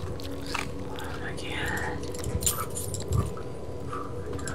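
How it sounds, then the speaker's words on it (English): Someone chewing chips close to a microphone, with crunchy bites and mouth noises over murky background sound and low, mumbled voices. "Nobody likes listening to you chew your chips!"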